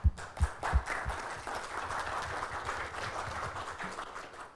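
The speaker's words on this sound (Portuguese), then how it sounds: "Vamos aplaudir." An audience at a network technology workshop breaks into applause, opening with a few loud separate claps before settling into a softer, steady patter of clapping.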